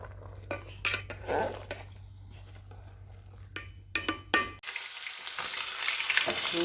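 Fish frying in a pan, first quiet sizzling with sharp metallic clinks of a utensil against the pan, then a sudden loud, steady hiss of frying that continues to the end.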